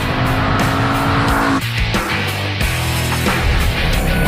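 A Ford Mustang Boss 302 with 444 horsepower driven hard on a track, its engine roaring loudly and continuously with gear changes while the tires squeal under heavy load.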